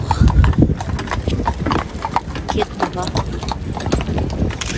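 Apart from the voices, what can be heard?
horse hooves clip-clopping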